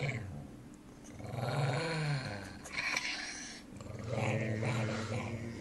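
A dog growling close by in a long, low rumble that swells and eases in waves, with a short pause midway before the growl resumes.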